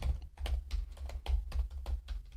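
Rapid typing on a laptop keyboard, with close, crisp key taps in an irregular rhythm and short pauses between bursts.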